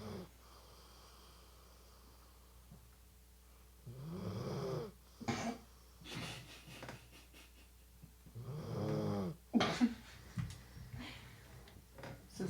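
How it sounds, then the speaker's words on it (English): A dog snores slowly and rhythmically close by, two long raspy breaths with snorts, separated by quiet pauses. "Sound of Larry the dog snoring as your voicemail message"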